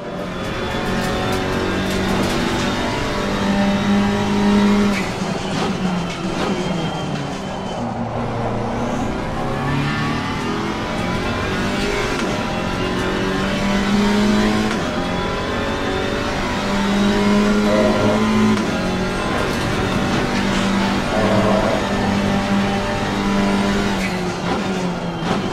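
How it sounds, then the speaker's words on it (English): Alpine GT4 race car engine in Assetto Corsa Competizione, revving up and down through gear changes over a lap, loud and continuous with rising and falling pitch and occasional tire noise. "So let's listen to the Alpine engine for a bit and check out the rest of the lap."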